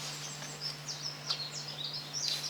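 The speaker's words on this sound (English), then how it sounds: "You hear those birds?" Birds chirp intermittently in short, high tweets over a steady low hum, faint and somewhat distant outdoors in Japan.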